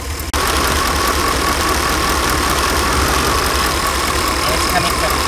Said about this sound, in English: You can see how it's idling funny.